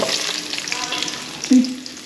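Hot oil sizzles steadily in a casserole pot, a soft continuous crackle, with a brief clink of a utensil partway through.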